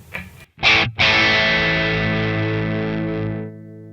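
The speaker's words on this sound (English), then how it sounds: "The gain I've just got wound in so you can hear it starting to clip." A sustained electric guitar chord through a Fender Hammertone Distortion pedal with the gain up, starting to clip, rings out after two short muted strums, crunchy and saturated, slowly fading over a few seconds.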